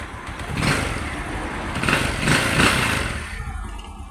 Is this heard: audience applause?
no